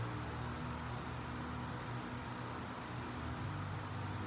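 An electric fan runs steadily in a hot room, a faint, even whirring hiss with a low hum underneath, continuous and unchanging throughout.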